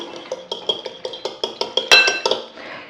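A fork whisks chicken nugget mixture in a bowl, giving a quick, regular series of close metallic clicks and taps against the dish, with one louder clink near the end.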